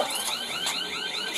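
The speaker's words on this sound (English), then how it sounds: "What is that? Your alarm?" An alarm sounds at a gate, a loud, steady electronic warble with rising and falling sweeping tones that repeats throughout, with no voices over it.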